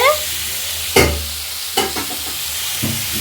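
Pointed gourd, potato and fish curry being stirred and fried in a pan: a few sharp utensil clanks and scrapes spaced about a second apart over a low sizzle, close by, with no talking.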